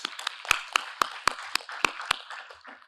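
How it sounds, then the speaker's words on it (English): Sparse clapping from a small conference audience thanking the speakers, a handful of sharp, evenly spaced claps standing out over a brief, thin patter, close and fading out by the end. "Another round of applause for our speakers."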